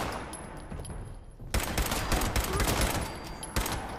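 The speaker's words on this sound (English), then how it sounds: "I shot that person by accident" Gunfire in the video game Fallout 76, a sudden loud burst of shots that breaks a quieter stretch, followed by dense crackling fire and a second sharp report near the end, no talking.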